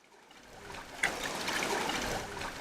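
Water trickles softly at Harod's Spring, a faint continuous dribble with small splashes that grows slightly fuller after the first second.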